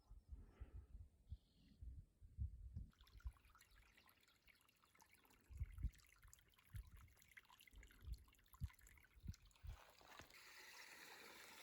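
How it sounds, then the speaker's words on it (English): Water trickles and drips over rock in a dry desert canyon in the Mt. Nutt Wilderness, faint and close, with irregular soft splashes and a steadier flowing hiss building near the end. "Running water."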